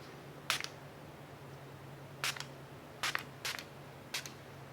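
Pharmacy Skin Dew setting spray spritzed in a makeup routine: five short hissing mist bursts, sharp and close, spaced irregularly over a faint steady hum, with no talk.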